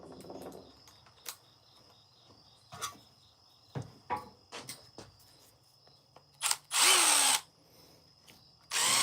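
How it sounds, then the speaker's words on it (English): A power drill whirs in short bursts, then a longer, louder run near the end, amid quiet workshop background with scattered knocks and taps while a wooden piece is drilled. "I need a piece of wood that I can drill into."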